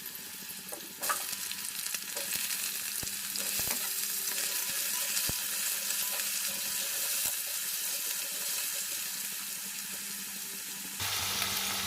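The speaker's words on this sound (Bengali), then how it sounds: "দেখো একইভাবে আলুটা অল্প একটু ভাজা হলো" Potatoes fry in hot oil in a wok with a loud, dense, unbroken sizzle, punctuated by a few sharp spatula taps and scrapes, and a brief sudden shift near the end.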